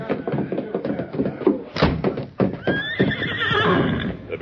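Radio drama sound effects of horses in a 1947 Lone Ranger western episode: hooves clattering and thudding, a sharp knock, then a loud, rising whinny, all close and prominent.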